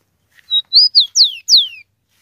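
A young rufous-collared sparrow (tico-tico) sings a short, clear phrase of five high, sliding whistled notes, close and alone against silence.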